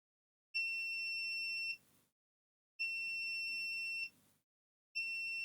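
Multimeter continuity beep while testing a diode on a circuit board, a shrill steady tone sounding three times, each lasting about a second and a half with short silent gaps.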